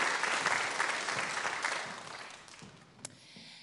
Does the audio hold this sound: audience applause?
yes